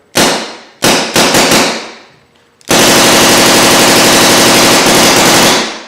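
A paintball gun fires loud, close shots: a few short rapid bursts, then after a brief pause a sustained stream of shots at a steady high rate of about 15 balls per second before it stops.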